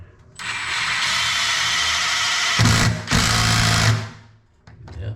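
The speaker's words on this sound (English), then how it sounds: "now we're driving the screws through the anchor, past the tile, and into the subfloor" A power drill drives screws through a toilet flange repair ring anchor and floor tile into a wooden subfloor: a loud, close, whirring motor runs for several seconds, dips briefly, then surges again before stopping.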